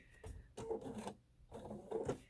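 A home sewing machine stitching along a printed line on a fabric coffee pot mat, two quiet runs of mechanical whirring and clatter separated by a brief pause, close and faint.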